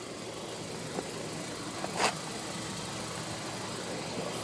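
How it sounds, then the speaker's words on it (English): A 2014 Audi A3 with a 2-liter turbocharged dual overhead cam four-cylinder engine idles in a steady, low, even hum with a faint brief clunk midway, heard fairly quietly and without talk. "And Audi is 2-liter, dual overhead cam 4-cylinder. It's a turbocharged engine."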